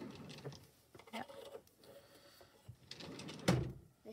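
A desk drawer slides open and shut nearby, giving faint wooden rattles and scrapes followed by a soft thump near the end, in a quiet room.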